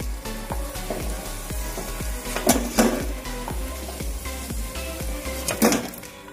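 Amriti sweets fry in hot oil with a steady low sizzle, while metal utensils clink and scrape against the pan in a loose rhythm, a few louder knocks standing out.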